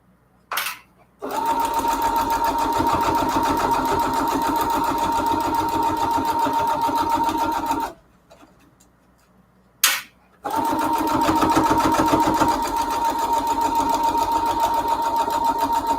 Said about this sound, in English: we're going to sew on the line here